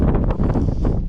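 Strong wind on an exposed summit in Brecon Beacons National Park buffets the microphone with a continuous loud, rumbling roar.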